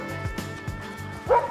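Sled dogs bark in a quick run of sharp, close yips and woofs, with a louder yelp near the end.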